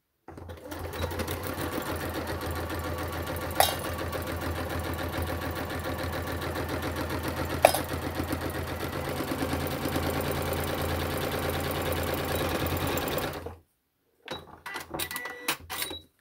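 A sewing machine hums through a long steady run stitching the sides of a handbag, with two sharp clicks along the way, then stops abruptly before a few short clattering bursts.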